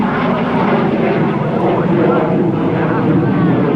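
An F-86 Sabre jet roars through a steady, loud pass at the 2013 Dayton Airshow, its broad engine rumble filling the whole moment while an announcer talks over it.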